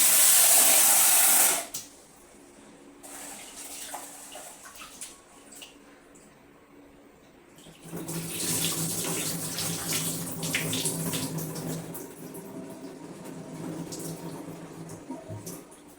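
Durga Rajamudi rice grains washed under running tap water, with a loud gush at first, then quieter trickling and swishing, and a fuller stretch of running water and rinsing later on.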